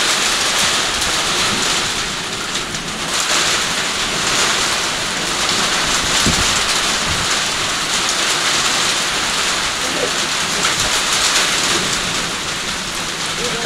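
Heavy rain pours steadily during a windy storm in Kailali, a dense, even hiss of drops drumming on surfaces for the whole stretch, with occasional low thumps beneath and no voices.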